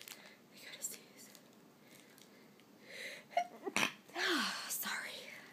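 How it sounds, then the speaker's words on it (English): A single human sneeze bursts out near the end, close and fairly loud, after quiet whispery breathing and soft rustling. "I gotta sneeze."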